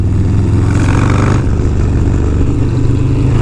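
A big-engine high-performance motorcycle revs loudly and close up, a steady heavy engine drone with one throttle swell before settling back, no voices present.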